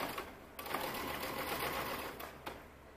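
A sewing machine stitches single fold bias binding onto a neckline at a half-inch seam allowance, running in a steady close whir with a couple of brief dips in speed.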